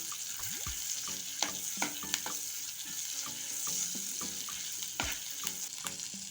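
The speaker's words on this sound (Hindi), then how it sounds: "हल्का सा भून लेंगे इसे हम" Green chillies split down the middle and grated ginger are sautéed in a pan for shahi paneer, giving a steady close sizzle with scraping stir strokes and sharp utensil clicks throughout, no voices.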